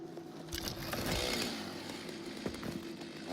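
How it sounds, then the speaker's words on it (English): Chainsaw in the Satisfactory video game revving loudly with a buzzing, rising and falling motor whine and scraping cuts, close and alone. "Chainsaw."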